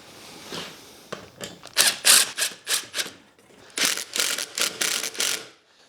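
Large screw driven through wood while assembling a simple bird feeder base, a run of close, loud ratcheting bursts in two groups separated by a short pause, with no talking.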